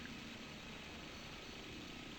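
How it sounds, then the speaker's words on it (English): Simulated helicopter in a flight video game, its rotor and engine drone a steady, dense hum throughout, loud and close with no talk over it. "you'll notice that if I'm not moving forward, the helicopter will start spinning"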